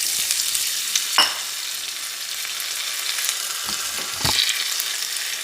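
Potatoes fry in cooking oil in a preheated pan over medium heat, producing a loud, continuous crackling sizzle with a few sharper bursts and spatters throughout.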